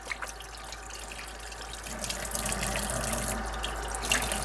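Tap water running over freshly processed whole quail in a sink, a steady close splashing flow that grows slightly louder partway through, with no talking.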